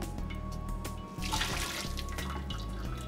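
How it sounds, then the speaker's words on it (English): Korean bone broth soup, seolleongtang, being poured into a separate pot; a steady, continuous pouring and splashing of liquid, close and moderately loud, with a slight shift midway. "we're just gonna take this last little bit of liquid or soup, and we're gonna put it into, I got a separate pot here"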